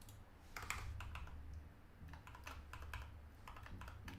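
Someone writes code on a computer keyboard, tapping out quiet, rapid runs of keystrokes in irregular bursts over a faint background hum, with no talking.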